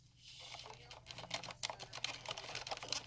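Typing on a Corsair Strafe mechanical keyboard fitted with silent keys, a soft, fast, continuous patter of muted keystrokes close up and fairly quiet.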